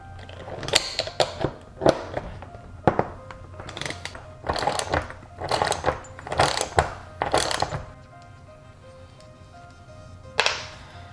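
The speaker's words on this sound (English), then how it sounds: "We'll hold the actual nut with the 14mm crescent wrench, and we'll see if we can get these studs off." A 14mm crescent wrench works loose exhaust header studs and nuts on a 370Z/G37, giving a series of sharp metallic ratcheting clacks in close bursts, then a pause and one final rasping burst.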